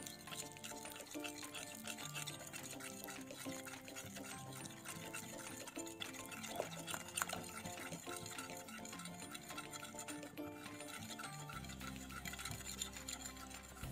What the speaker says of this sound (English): We'll whisk these two ingredients together.